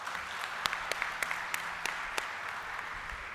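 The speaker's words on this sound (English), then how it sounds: "So can I hear a round of applause for yourself?" Graduates at a college graduation ceremony give a round of applause, a dense steady wash of clapping with a few sharper individual claps standing out, heard from within the crowd.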